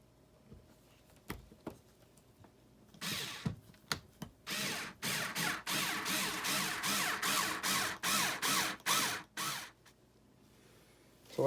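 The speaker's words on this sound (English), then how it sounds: "So I'm going to go ahead and screw this in." Power drill driving a screw into a unicorn night light build, a series of short whirring bursts in a quick stop-start rhythm, close and moderately loud after a few light clicks.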